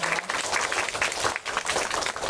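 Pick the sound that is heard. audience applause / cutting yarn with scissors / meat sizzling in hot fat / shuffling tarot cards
audience applause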